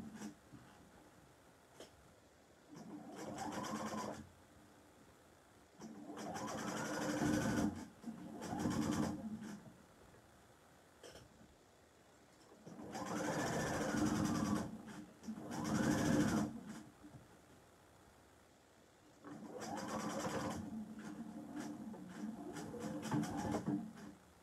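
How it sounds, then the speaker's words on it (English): A sewing machine stitches through all the layers of an apron in several separate bursts of whirring, each several seconds long, with quiet gaps of handling noise between them. "I'm going to sew through all the layers."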